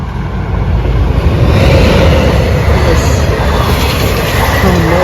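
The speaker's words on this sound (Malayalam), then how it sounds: "ട്രെയിൻ വന്നു." A train rolls past nearby with a loud, continuous rumbling roar and metallic rattle, steady throughout.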